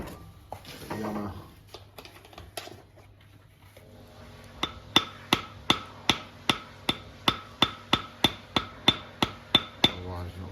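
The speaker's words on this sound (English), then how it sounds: "Just tap that block that way a little bit." A hammer taps a block during bricklaying in a garage conversion, at first a few scattered knocks, then a steady run of about fifteen sharp, evenly spaced taps, close and clear.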